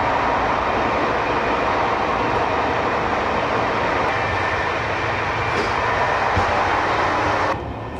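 Interior of a moving train from London to Vienna in 1995: a steady loud rumble of wheels and carriage noise with faint clatters, dropping off slightly at the very end.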